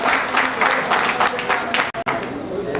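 An audience at a review meeting in a hotel applauds to welcome a speaker, sustained dense clapping lasting nearly three seconds with a voice mixed in, then two brief dropouts near the end.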